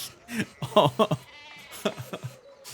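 Sheep in the Pentiment video game bleat in a series of short, clear, wavering calls, several close together and then a few more after a pause, fairly loud and without talk.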